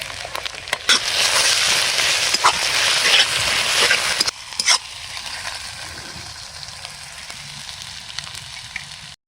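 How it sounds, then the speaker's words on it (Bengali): Onions frying in a pan with ginger garlic paste added give a loud, dense sizzle for about four seconds, then a quieter, lower crackle carries on, broken by a few sharp stirring clicks. "আমাদের পেঁয়াজ ভাজা ভাজা হয়ে গেছে, আমরা এখানে আদা রসুন বাটা আছে আমরা দিয়ে দেবো।"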